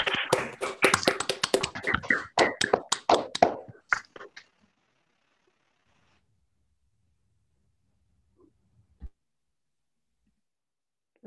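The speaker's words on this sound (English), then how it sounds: "I am going to ask everyone to unmute so that we can clap." Online audience claps through unmuted microphones after a talk, a scattered burst of taps and claps for about four seconds that then drops to near silence with a couple of faint isolated sounds.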